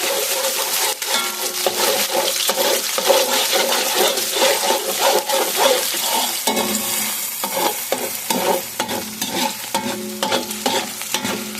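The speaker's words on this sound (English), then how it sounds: "Now I want to just start doing this process. I want to show you. I want to start frying it up." Loud, steady sizzling and crackling of food frying in a hot pan, with scraping and stirring knocks throughout.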